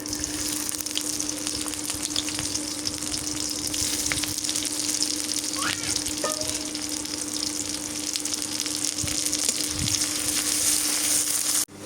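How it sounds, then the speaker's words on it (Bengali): Dried fish and teasel gourd fry in hot oil, giving a loud, continuous crackling sizzle throughout, with an occasional light scrape of a stirring spoon and a low steady hum underneath. "তেল দিয়ে দিই শুটকি আর কাঁকরোল ভাজি করবো।"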